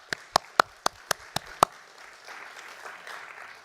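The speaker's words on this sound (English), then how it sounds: "Let's have a big round of applause." Seven sharp, evenly spaced claps ring out near the microphone, then fade into a soft diffuse murmur of audience applause.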